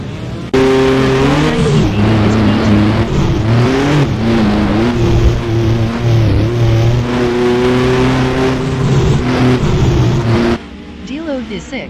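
Race cars roar through a rallycross race at Blackwood in a video game, including an Alfa Romeo and a BMW, engines whining and shifting pitch continuously for about ten seconds before cutting off abruptly, with commentary running over them.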